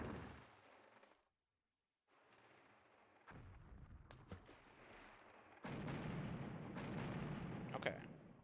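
Ship cannons firing in the video game Puzzle Pirates, booming bursts and rumbling blasts that come in several separate bouts with brief gaps between them.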